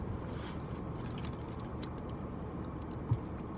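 Steady low road rumble and broadband hum from inside a moving car, continuous throughout with one brief soft bump near the end and no talking.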